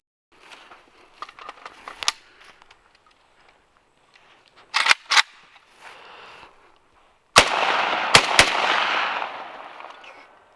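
AK rifle fired on an outdoor range, several sharp loud shots in small groups separated by pauses, with handling clatter between bursts.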